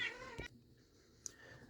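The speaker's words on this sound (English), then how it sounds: "my cat was meowing for something" A house cat gives a single short, faint meow at the start, then a quiet indoor room follows with a small tap.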